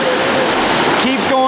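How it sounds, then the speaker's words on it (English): Heavy rush of water pouring through an opened dam gate, a dense, loud continuous roar close by, with a brief voice cutting in near the end. "that's huge flow of water coming through"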